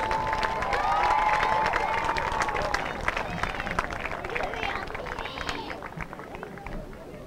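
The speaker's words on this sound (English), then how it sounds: "Have one last big round of applause for both your Quincy High School seniors and your North Quincy High School seniors" Crowd applause and cheering for the Quincy High School and North Quincy High School seniors at a girls' lacrosse game, a sustained wash of clapping with a public-address voice audible early on.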